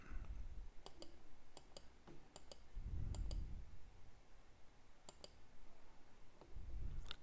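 Computer mouse clicking at a desk while working in building-control software, about a dozen crisp close clicks coming singly and in quick pairs over faint low room noise, with no talking.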